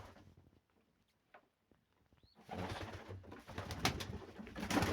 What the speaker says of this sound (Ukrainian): є всі голуби.